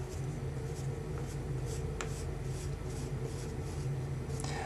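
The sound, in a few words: pencil drawing a curve on paper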